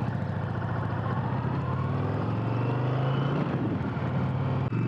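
An Indian Challenger motorcycle with its Power Plus engine rumbles along on the road, a continuous low throbbing drone with wind rush, steady and fairly loud throughout.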